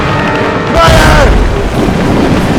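Ship cannon firing in Assassin's Creed Rogue during a naval battle against fire ships, one heavy booming blast with a rushing roar that holds loud to the end over the battle din.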